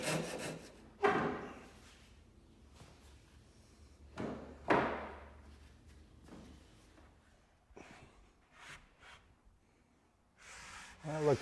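Wood being trimmed by hand on the hull of a Haven 12 1/2 boat under construction, with several separate rasping, rubbing strokes in short bursts and quiet pauses between them, close to the listener.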